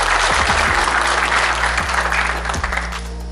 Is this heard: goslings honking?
no